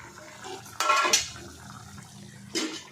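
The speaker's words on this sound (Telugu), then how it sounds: "ఇప్పుడు కూర ఉడుకుతుంది. ఒకసారి తీసి చూద్దాం." A pot of drumstick and moong dal curry bubbles softly beneath a lid, then a metal lid clinks and scrapes as it lifts off, followed by another brief clatter, close and fairly quiet.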